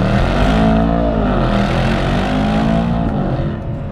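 Mercedes AMG E63S wagon accelerating hard from a stop, a loud close engine roar climbing steadily in pitch through the revs and easing slightly at the end, with no talking.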